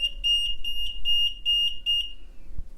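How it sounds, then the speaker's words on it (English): A bench capacitor tester beeps when a test ends on a Pioneer SX-1250 amplifier rebuild. About six short, sharp beeps repeat in an even rhythm, moderately loud and alone. "So when I end this test, it's going to beep at me"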